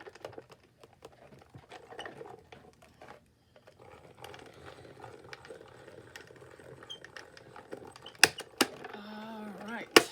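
A paper cutting machine grinds and clicks as paper is run through it, a steady mechanical ratcheting with scattered sharp clacks and a few louder snaps near the end, with a voice heard briefly.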